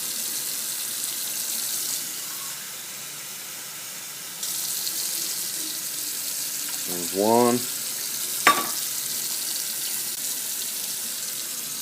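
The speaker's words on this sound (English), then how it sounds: "Okay, now we're going to put in 8 cups of water." Water for a pork brine streams steadily from a faucet, with a few clinks and knocks. Someone speaks briefly.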